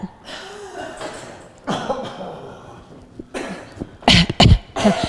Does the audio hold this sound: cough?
yes